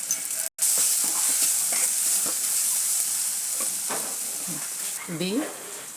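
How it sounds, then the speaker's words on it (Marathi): Okra frying in hot oil with salt, coriander powder and garam masala, a steady close sizzle and hiss with repeated scraping stirs of a spoon through the pan, a brief cut near the start. "मी तेल टाकून असं खरपूस भाजून घेतलेलं आहे"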